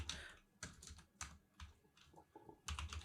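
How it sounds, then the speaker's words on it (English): Quiet, close keyboard typing: short irregular bursts of key clicks with brief pauses between them. "here I'm typing choco"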